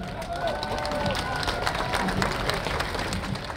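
Applause and crowd noise greet a marching youth group at a Polish historical parade, the clapping steady and broad throughout while someone speaks over a public address system.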